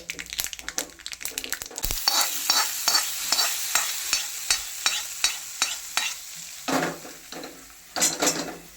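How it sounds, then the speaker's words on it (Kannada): Mustard seeds crackle in hot oil for a tempering for raw lemon gojju, heard as a loud sizzle with steady, rhythmic metallic scraping strokes close by. "ಸಾಸಿವೆ ಎರಡು ಸ್ಪೂನ್ ಹಾಕ್ತಾ ಇದ್ದೀನಿ ಚಟಪಟ ಅಂತ ಇದೆ ಸಾಸಿವೆ"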